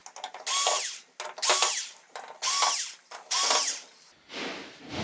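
Power drill backing out screws from the back plate of a Samsung UN60FH6003 TV, four close, loud whirring bursts with brief gaps between them, then a softer rustling as the plate is handled.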